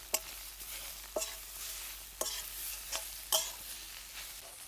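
Raw papaya kunda is sautéed with crushed cashews and almonds, a soft, quiet sizzle punctuated by about five evenly spaced scraping strokes of a spatula across the pan.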